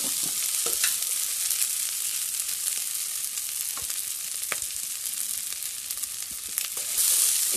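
Turmeric and Kashmiri masala sizzle steadily in hot oil in a pan, with scattered scraping clicks of a spoon stirring through the spices, close and continuous with no one talking.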